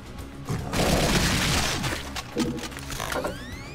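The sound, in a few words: plasma machine gun firing in video game Brutal Doom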